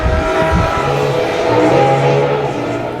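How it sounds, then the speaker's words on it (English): Ferrari LaFerrari supercar engine roaring loud and steady, a dense throaty note that holds with slight rises in pitch as it revs, no voices over it. "I'll show you some gratuitous loud Ferrari video"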